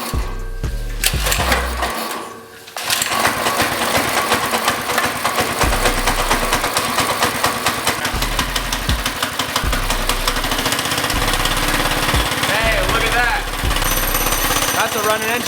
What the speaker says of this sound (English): That's a running engine, guys.